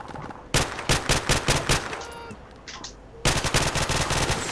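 Rapid automatic gunfire in the video game Call of Duty Modern Warfare Remastered rattles out in two loud, close bursts of rhythmic shots separated by a short, quieter gap.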